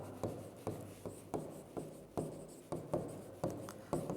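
Chalk or marker writing an equation on a classroom board, heard as rhythmic scratchy strokes in short repeated bursts, close and moderately quiet, with no talking.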